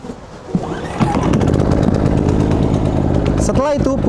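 A Loncin LC3000i inverter generator is started with a recoil pull. A couple of sharp pull thumps come first, then the engine catches and runs loud and steady close by. Near the end a voice briefly cuts in.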